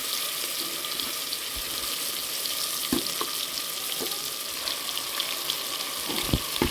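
Mutton pieces dropped into a pan with fried cashews for green pulao, giving a steady close sizzle with several sharp clatters and thumps as the meat goes in.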